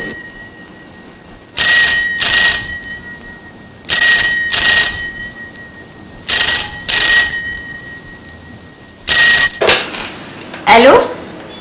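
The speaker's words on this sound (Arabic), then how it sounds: "ردي على التليفون." Telephone ringing in an office, loud repeated rings in four evenly spaced bursts, followed by clattering handling noises near the end.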